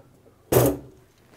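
A sharp single closing clunk from the spring-loaded fuel filler door behind the license plate of a 1969 Pontiac Firebird, close and loud against near silence, decaying quickly.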